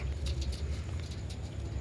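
Large female pigeons cooing in a loft, a low, steady murmur that carries on for the whole stretch, fairly faint, with a dull background rumble and no talking.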